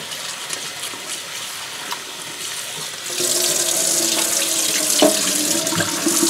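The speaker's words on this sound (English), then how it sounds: "Now that I got my potatoes peeled, I want to make sure you give them a good wash and get out as much of the starch as that you can." A kitchen tap runs as peeled potatoes are washed to rinse off starch, a steady quiet trickle that swells into a louder, fuller gush of water partway through, with faint handling knocks.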